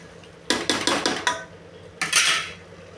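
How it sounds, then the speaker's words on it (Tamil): Masala for a South Indian ghee rice is sautéed in a pot with a spoon, giving a close run of five quick metallic scrapes and clanks, then a pause and a longer scraping stir, over a faint background hum. "இப்போ இதெல்லாம் பச்சை வாசனை போகிற அளவுக்கும் நம்ம நல்லா வணக்கிக்கலாம்"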